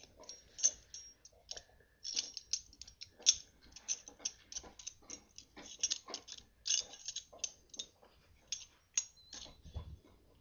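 Small metallic clicks and ticks, faint and close in uneven bursts, as the bolt guide of a Mosin Nagant rifle is fiddled with and slid back onto the bolt during field stripping.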